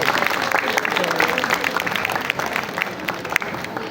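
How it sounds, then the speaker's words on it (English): Audience at a book fair talk applauding the Hobson family, a short burst of clapping with crowd murmur and some voices mixed in. "Let's have a round of applause for them po"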